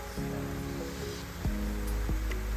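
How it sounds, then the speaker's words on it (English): Water features in a public garden send up a soft, continuous splashing rush with occasional low thumps of falling water, heard alone without voices. "the sound of the water features"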